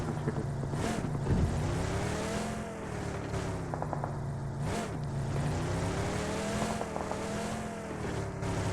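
A car engine in a competitive esports video game, droning and revving steadily throughout with rising and falling pitch as the vehicle approaches, joined by a few brief sharp bangs.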